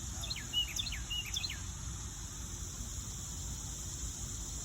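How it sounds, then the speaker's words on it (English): Several short bird chirps and whistles early on, fairly near, over a steady hiss of insects and background noise, then only the continuous insect-like drone remains. "Isn't that a pretty bird song?"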